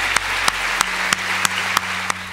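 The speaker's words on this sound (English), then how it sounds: "Let's give them a clap too." An audience at the ISFiT 2009 student festival in Trondheim applauds as a steady wash of clapping, with sharp louder claps punching through at a regular beat, close and continuous throughout.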